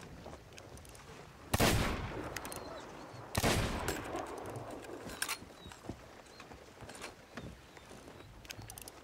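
Rifle gunshots in the pirate video game Sea of Thieves: two sharp, loud cracks a couple of seconds apart, followed by fainter scattered shots and clatter.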